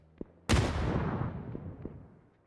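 Grenades and utility pound a position in a PUBG scrim: a small pop, then a loud close blast with a long rumbling decay and a few faint later thuds.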